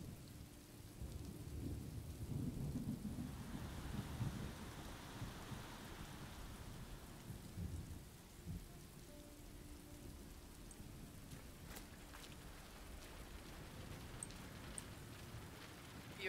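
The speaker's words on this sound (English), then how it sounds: "Why is it raining now?" Rain falls steadily in the video game Road 96, a soft hiss with low rumbling thunder rolling through early on, then a quieter patter with a few faint distant clicks and tones.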